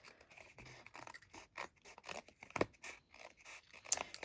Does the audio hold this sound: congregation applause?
no